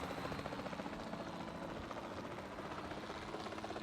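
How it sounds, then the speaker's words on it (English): Helicopter in a Jurassic Park video game, a steady loud rotor chop with a dense engine roar held continuously throughout, no voices over it. "You guys want to go on a helicopter ride? Because I do."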